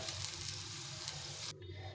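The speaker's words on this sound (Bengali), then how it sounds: "রসুনগুলো একটু লাল লাল করে ভেজে নিলাম" Garlic cloves fry in hot oil with a continuous soft sizzling hiss and faint bubbling, moderately quiet and close, the sizzle briefly thinning near the end; no voices.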